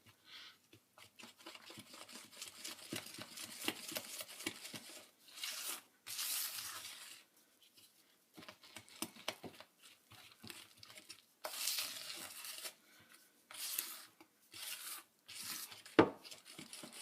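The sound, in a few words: mixing Don Quixote tres leches cake batter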